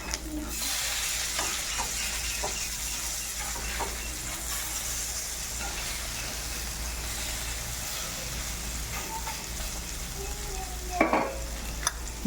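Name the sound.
squid vada frying in oil, flipped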